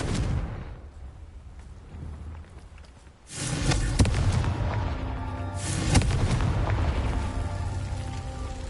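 A Confringo spell blasts in Hogwarts Legacy, a loud crackling burst erupting after a quieter stretch, followed by a sustained rumbling, hissing roar and a second surge of explosive noise.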